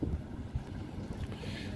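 A small boat motors along at dawn with a low, steady engine rumble mixed with wind buffeting the microphone, close and continuous for the short stretch.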